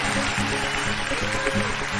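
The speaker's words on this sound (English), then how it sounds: "The audience is cheering" Sustained audience applause rolls on as a dense, even wash of clapping, fairly loud and close, with a faint voice underneath.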